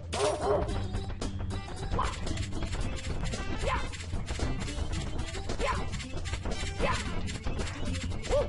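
Dog barking in Super Sonic 64, repeated yips and barks over busy, dense game music and effects, fairly loud throughout.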